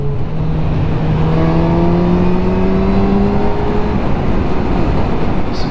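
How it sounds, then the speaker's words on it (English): A 2022 Honda CB1000R Black Edition litre-class naked motorcycle accelerates hard, its engine note climbing steadily in pitch through the gears, loud and continuous with wind rush underneath and no talking. "Just playing around, using all the bike's power when you can."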